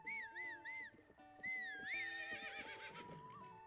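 Horse neighing in the video game Zelda Breath of the Wild: two whinnies, a short one then a longer, louder call, over light background game sounds.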